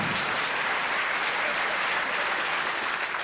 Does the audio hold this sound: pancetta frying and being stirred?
no